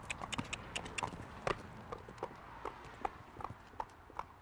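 A horse trots off on a hard surface after a flexion test on its leg, hooves clip-clopping in an even rhythm at moderate distance with light background noise.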